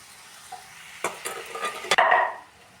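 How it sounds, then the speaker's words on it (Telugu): A spoon stirs cauliflower and tomato curry in a frying pan, producing a few scraping strokes followed by a short sizzling burst, close and moderately loud with no talking. "మంచిగా ఒకసారి కలిపేసుకొని ఇందులోకి ఇప్పుడు టొమాటో కూడా వేసేసుకోవాలండి"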